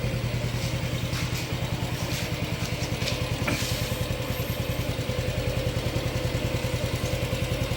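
A new 2026 Honda Dream motorcycle engine idles steadily up close, its even, rapid putter continuing without a break throughout.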